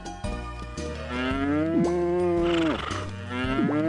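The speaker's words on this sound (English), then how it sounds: "I got my cows here, Melissa, Daisy, Bessie, and Sean." Cows in the video game Harvest Moon: Magical Melody moo in long, loud, drawn-out calls one after another, clear and close, with no voices.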